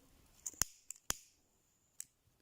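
Scissors snip through a double-knotted cord in a few quick, crisp, close clicks, with short pauses between them and one softer snip at the end, in a quiet room with no voices.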